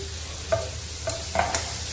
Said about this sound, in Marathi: परतून घ्यायला एक कांदा टमॅटो कापलेला टाकणार आहे